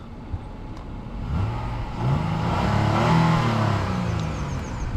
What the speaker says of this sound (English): And give you guys a little rev.